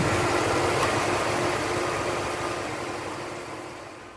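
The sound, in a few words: car engine idling with air conditioning compressor running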